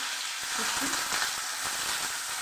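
Onion with bay leaf sizzling in hot oil in a kadai for a Bengali chicken kosha, a steady close crackle with faint stirring and no voices.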